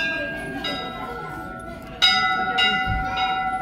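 A temple bell rung by hand at a Mahadev temple in Mussoorie gives a few clear metallic strikes, the sharpest about two seconds in, each leaving a ringing tone that lingers over the crowd and speech around it.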